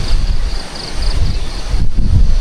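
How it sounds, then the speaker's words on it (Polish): Steady wind gusts and rumbles loudly against the microphone outdoors in Mondulkiri, a continuous broadband roar with no voices. "I jak ten wiatr jest dzisiaj, to tam przewiewa."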